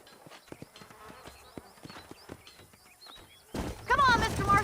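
Horse hooves clip-clop in a steady rhythm on a dirt trail in the Red Dead Redemption western video game, clear and close, joined near the end by loud rustling and other game sounds.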